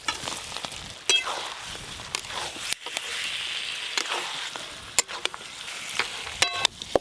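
Pre-fried potatoes go into a spiced pan for aloo dum. A bright, hissing sizzle continues throughout, broken by clicks and scrapes of stirring.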